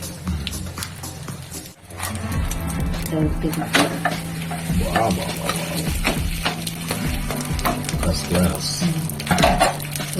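Egg Mughlai fries in a pan over a low gas flame, a steady gentle sizzle dotted with spatula scrapes and clinks while a voice talks throughout.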